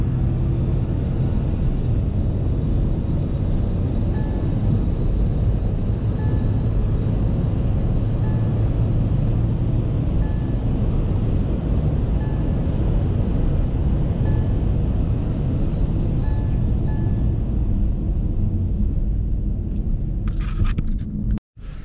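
A Mahindra XUV300 petrol with AMT gearbox accelerates hard, its engine revving high in a loud, steady drone with road and wind rumble, held for about twenty seconds before cutting off abruptly.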